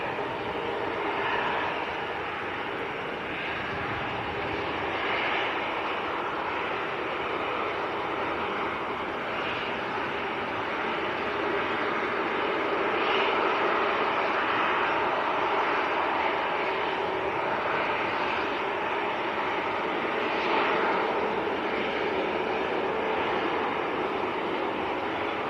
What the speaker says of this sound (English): Mike says KLM's taxiing out as well.